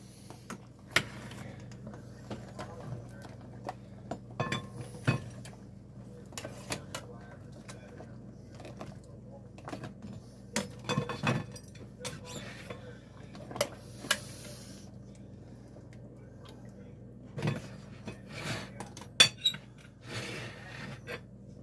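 Cooked lobsters are scooped out of a pot, with scattered metallic clanks and clinks of utensils against the pot at irregular intervals, close but moderate in volume over a low background hum.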